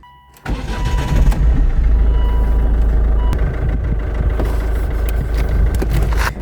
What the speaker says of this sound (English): Let me start the engine and show you how it sounds. So this is a diesel engine.